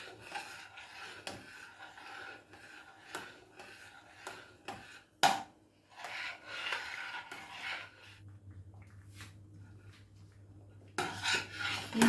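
Thick Jaffna dodol mixture being stirred in a pan, a wooden spoon scraping and rasping against the metal in steady, close strokes with occasional sharper knocks, no talk.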